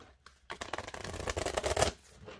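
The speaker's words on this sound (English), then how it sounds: "is to just do a side shuffle" A quick burst of riffling card shuffling, dense fluttering clicks lasting about a second and a half, close and moderately loud.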